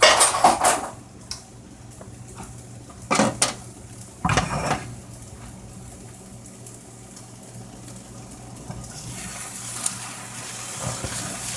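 Kitchen utensils clatter and scrape as someone rummages for a spatula, with a few loud clanks near the start and in the middle, then quieter shuffling and faint knocks against a steady low background hum.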